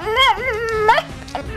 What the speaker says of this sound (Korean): 그동안 말하는 개들이 있었다